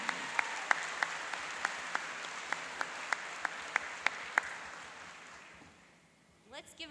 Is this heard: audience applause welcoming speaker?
yes